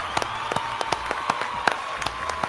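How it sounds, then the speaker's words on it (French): A small group claps for the winner of a tier-list game with friends: sparse, uneven claps, fairly close and moderate in volume, over a steady background hiss. "On peut applaudir."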